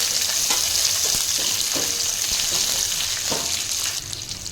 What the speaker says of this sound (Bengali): পেঁয়াজগুলো হালকা সফট করে নেওয়ার পর এতে দিয়ে দিচ্ছি আমি গ্রিন সিমলা মির্চ, red bell paper, yellow bell paper দিয়ে এটা আমি ভালো করে নেড়ে নিচ্ছি।